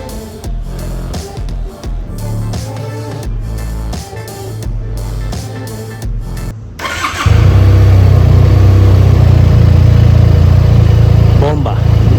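A QJ Motor SRK 400 motorcycle sits idling with a throbbing engine note, then roars as it is revved hard, a loud, close, sustained mechanical growl.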